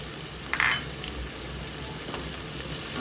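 Tomato, onion and capsicum sizzling in a pan, a steady close frying crackle with one brief louder scrape of stirring near the start, no talk.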